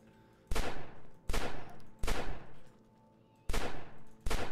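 Gunfire in the zombie video game Fort Zombie, five loud, heavy bursts of shots at uneven intervals with quiet gaps between them, close and punchy, with no talking.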